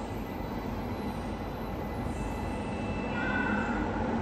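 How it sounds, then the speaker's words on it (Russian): Funicular railway train near Mount Vesuvius in Italy, running up and down through a tunnel, heard as a steady, fairly loud rumble with faint wheel squeal toward the end and no talking. "Здесь у них еще есть вот такой вот фуникулерчик"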